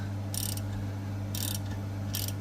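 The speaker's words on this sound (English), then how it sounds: "remove this screw, bolt." Wrench working a bolt loose on the front suspension of a Mercedes W221 S600: three short metallic ratcheting bursts about a second apart, close by, over a steady low hum.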